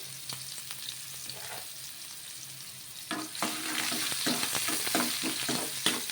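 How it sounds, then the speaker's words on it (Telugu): Onions dropped into hot oil for a chicken dish and stirred, a quiet start that swells into a louder sustained sizzle with scraping stir strokes, close up. "ఆయిల్ వేడెక్కాక మనమైతే ఆనియన్స్ వేసుకుందాము ఇలా ఉల్లిగడ్డ కూడా వేసేసుకొని కలిపేసుకోవాలి"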